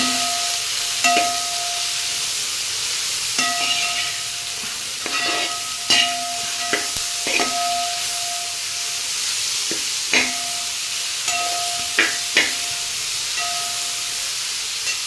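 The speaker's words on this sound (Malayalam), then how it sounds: "മല്ലിപ്പൊടി, ഉപ്പ്, ഇത് രണ്ടും കൂടെ ചേർത്ത് വേണം ഇളക്കാൻ" Chicken curry being stirred in a pan with coriander powder and salt, a steady sizzle and hiss broken by repeated sharp scrapes and clinks of the spoon against the pan.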